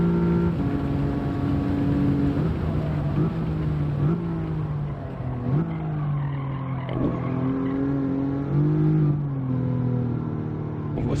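A race car in Gran Turismo 7 on the Trial Mountain circuit, its engine droning loudly and steadily with clear pitch rises and drops as it shifts gears and brakes through a chicane, with faint tire scrubbing underneath.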